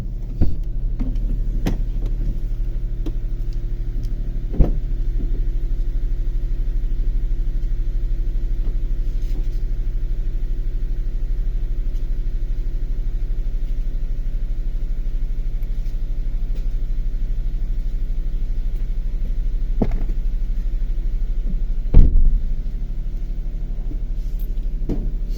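Low, steady engine rumble heard from inside a car, a constant drone throughout with a few faint knocks and clicks, no voices.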